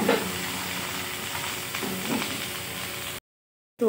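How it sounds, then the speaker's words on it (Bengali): Potatoes fry in hot oil in a pan with a constant close sizzle and occasional stirring scrapes, then the sound cuts out abruptly near the end. "আলুগুলো তেলটাতে ফ্রাই করতে দিয়ে দিব, তারপরে ফ্রাই হয়ে যাক আলুটা একটু।"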